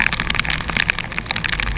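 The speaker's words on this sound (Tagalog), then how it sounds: "pakinggan niya yung batak ng ulan na humahampas sa akin mga katoto right?" Heavy rain pours down and pelts a person travelling home, a dense, loud, crackling patter of drops hitting close by, steady throughout with no voices.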